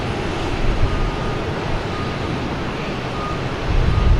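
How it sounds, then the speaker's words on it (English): A Delta Airbus A321 airliner at Boston Logan Airport gives a loud, steady, broad jet roar that holds for several seconds and swells slightly near the end, with no voices. "We have Delta A321 heading to Atlanta, flight 385."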